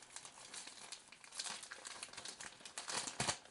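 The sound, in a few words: package crinkling during unboxing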